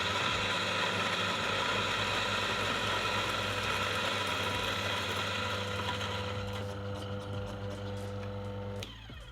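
Eureka single-dose coffee grinder working through a dose of beans, a steady loud mechanical whirring grind with rattling that thins out and drops off near the end as the beans run out.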